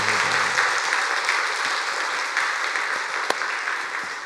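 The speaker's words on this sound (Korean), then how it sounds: "박수 한번 할까요?" Church congregation at a Sunday worship service applauds after a member's sung hymn, a steady, full wash of clapping from many hands that holds evenly throughout, moderately loud and uninterrupted by talk.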